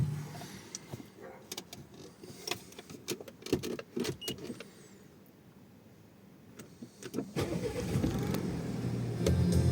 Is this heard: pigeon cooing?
no